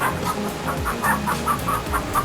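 A chicken, the kind of sacred bird once kept aboard Roman warships, clucks in quick repeated bursts. The calls are close and steady and sound alone without talk.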